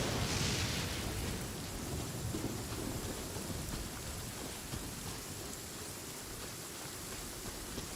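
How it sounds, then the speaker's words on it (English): A thunderstorm in Genshin Impact, with steady heavy rain hissing throughout and low thunder rumbling beneath, fairly faint and with no voices. "he just got struck by lightning"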